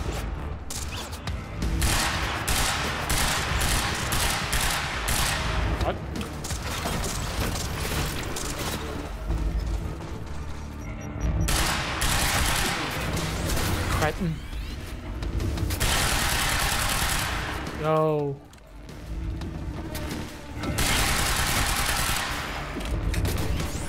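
Gunfire in the action game Quantum Break: loud, continuous bursts of rapid shots come in long stretches broken by brief pauses, with a short falling whoosh near the end and mechanical clatter mixed in.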